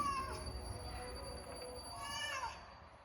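A tomcat meows twice, a short whining call at the start and another a couple of seconds later, close and fairly clear over a steady low background hum.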